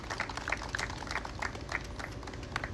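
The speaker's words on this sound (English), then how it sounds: "Let's give him a round of applause for organizing this." Crowd applause at an outdoor City of Jackson police event against gun violence, a steady wash of many hands clapping with scattered sharper claps throughout, moderately loud and without speech.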